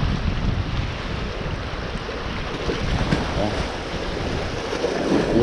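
Ocean surf breaks against a shore during fishing from the beach in moderately rough sea, a steady wash of waves with wind buffeting the microphone throughout, fairly loud and continuous.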